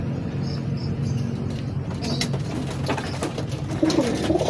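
Racing pigeons cooing during a training session in San Juan, Ilocos Sur: soft repeated coos and chirps heard over steady background noise.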